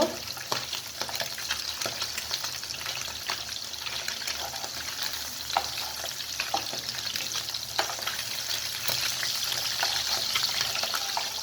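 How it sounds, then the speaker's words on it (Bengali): Rohu fish pieces fry in hot oil in a pan, giving a dense continuous sizzle and crackle with frequent small pops, steady and close throughout. "তো মাছগুলো একটু লাল লাল করে ভেজে নিব।"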